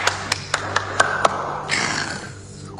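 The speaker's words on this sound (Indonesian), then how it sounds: "Seng Bien tiba-tiba saja tepuk tangan" A single person claps hands about six times at a steady, quick rhythm in a Korean drama scene, crisp and close, followed by a brief rustle and low background hum.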